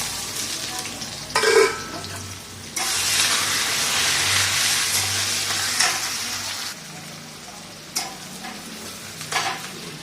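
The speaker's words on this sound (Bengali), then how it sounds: "তো ওই তেলেতে আমি পেঁয়াজ দিয়ে দিচ্ছি।" Onions hitting hot oil in a pan, where potatoes were fried before, sizzling loudly and continuously up close, with a few sharp clinks and stirring scrapes breaking through the hiss.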